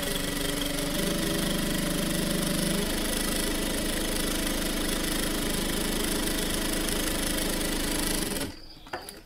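Sewing machine fitted with a shirring gathering foot stitching fabric, a steady mechanical whirring hum that runs loud and even, then stops abruptly near the end.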